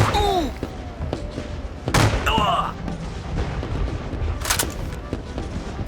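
Musket and artillery fire in a Battle of Waterloo recreation: several sharp booming shots and cracks over a continuous rumble. Voices exclaim in between the shots.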